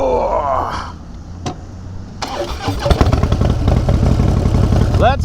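A Harley-Davidson Wide Glide FXDWG motorcycle fitted with a 200 rear tyre cranks and fires up, with a voice and quieter sounds first, then the engine catches and settles into a loud, close, rumbling idle.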